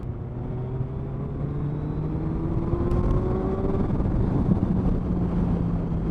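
A 2021 Suzuki Hayabusa cruises in fifth gear at low speed on a wet ride, its engine a smooth, steady drone with a slowly rising pitch under heavy wind rush.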